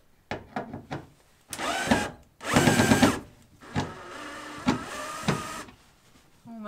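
An electric drill whirs in short bursts while backing screws out of the floor of a Transit van, with longer runs in between and quiet pauses.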